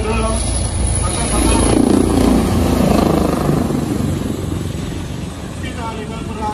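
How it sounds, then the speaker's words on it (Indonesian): An AW139 fire and rescue helicopter arrives at an incident scene, its steady loud rotor and turbine roar filling the air while crowd voices and a commentator speak beneath it. "kelihatan helikopter jabatan bomber dan penyelamat Malaysia telah tiba di tempat kejadian"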